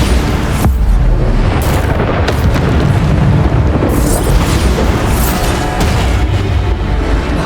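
Bombarda spell explosions in the Hogwarts Legacy video game, repeated heavy booms and bursts in dense, loud succession with crackling debris over a constant battle rumble.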